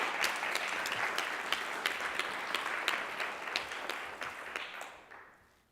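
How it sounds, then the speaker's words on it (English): A crowd at a talk on women and hip hop gives a round of applause, steady many-handed clapping at moderate distance that carries on for several seconds before tapering off into quiet. "So let's give a round of applause."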